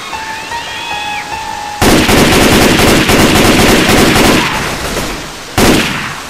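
Assault rifle fire in the video game Left 4 Dead 2 on the Hard Rain campaign: a dense, loud, sustained burst of rapid shots after a short quieter lead-in, then a brief pause and a second burst.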